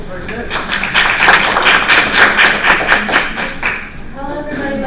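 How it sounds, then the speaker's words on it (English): A round of applause from students and teachers for a student speaker at an international school, brisk clapping for about three seconds before tapering off, followed by a speaking voice. "Tasneem, round of applause, very good."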